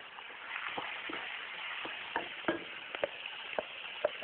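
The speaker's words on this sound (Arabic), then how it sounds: "واستمر في التقليب واجي ضايف الرز مع التقليب برضه" Rice and vermicelli sizzle steadily in a pan while a utensil stirs them, adding intermittent sharp clicks and scrapes over a soft, constant frying hiss.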